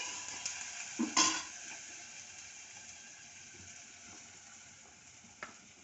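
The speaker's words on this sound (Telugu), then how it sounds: "గోధుమ రవ్వ వేసి ఇవి కూడా బాగా వేపాలి" Wheat rava (semolina) frying in oil for upma, a soft steady sizzle throughout with a brief louder scrape of stirring early on, close and fairly quiet.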